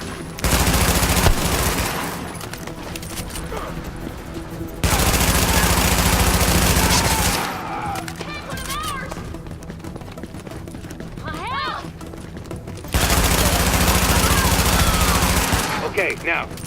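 Heavy bursts of automatic suppressive gunfire roar in Tom Clancy's The Division, loud sustained volleys alternating with quieter stretches where voices and other combat sounds come through.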